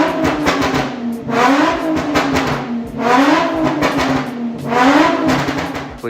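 A drift car's engine idling on all six cylinders, revving up and settling three times in a steady rhythm, loud and close with no talk.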